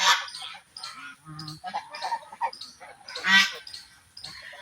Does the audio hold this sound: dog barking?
no